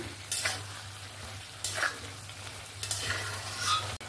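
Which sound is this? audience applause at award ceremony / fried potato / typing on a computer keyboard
fried potato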